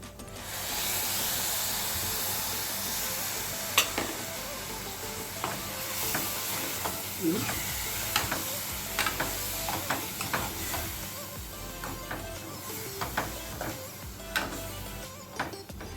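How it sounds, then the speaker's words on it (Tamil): Tomato paste is stirred into a frying prawn gravy, giving a continuous close sizzle and hiss broken by repeated spoon scrapes and taps against the pan. No one speaks. "இதை நல்லா மிக்ஸ் பண்ணி விட்டதும் நம்ம அரைச்சி வச்ச தக்காளி பேஸ்ட் இதில் ஆட் பண்ணிக்கலாம்."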